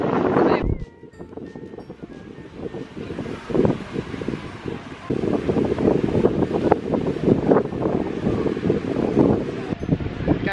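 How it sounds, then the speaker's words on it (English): Strong gusty wind at a beach roars and buffets the microphone, dropping briefly then surging back, with faint voices underneath. "It's so windy."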